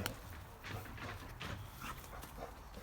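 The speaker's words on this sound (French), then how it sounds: "C'est les chiens qui sont heureux de se revoir." Several dogs in an overgrown vegetable garden, excited at being reunited, panting and whimpering softly at moderate distance in steady, restless bursts, with no talk over them.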